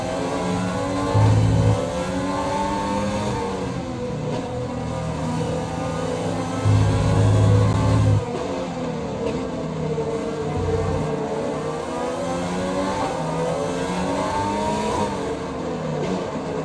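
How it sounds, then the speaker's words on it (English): A high-pitched Formula 1 car engine in the video game F1 2020 whines continuously at the Dutch Grand Prix, revs rising and falling through gear changes, with a few deeper surges from other cars. "So you can hear by the engine on Lando's car here that he is taking the course pretty conservatively"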